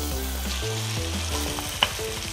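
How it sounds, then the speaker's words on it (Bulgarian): Carrots, celery and onion sautéing in a spoonful or two of hot butter, a steady close sizzle with one sharp tap partway through, alone without talk. "Слагаме ги в сгорещената мазнина."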